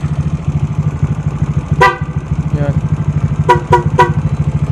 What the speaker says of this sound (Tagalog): So, pag nagbusina,